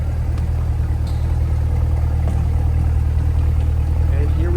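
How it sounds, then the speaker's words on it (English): Steady low exhaust rumble from a 2024 Chevrolet Corvette 2LT Coupe at idle, close and continuous with an even throb and no revving. "Here's your exhaust at idle"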